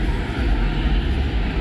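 An aeroplane comes in to land, its engines making a loud, steady broadband roar that holds at a constant level throughout, with no clear speech over it.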